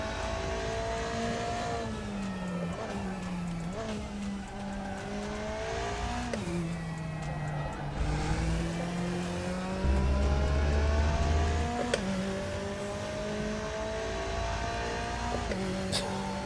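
A McLaren race car in the RaceRoom sim racing game sounds with a continuous engine note that climbs and drops through repeated upshifts and downshifts, loud and close throughout.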